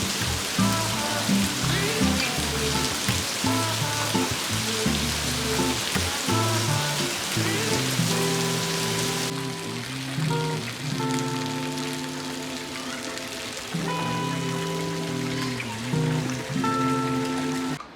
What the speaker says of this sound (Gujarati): પણ વરસાદ આમ જોવો તો ખરી